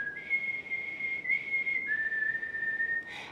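A person whistles an imitation of a mockingbird call: a few sustained, clear notes stepping between pitches with short breaks, fairly soft and alone.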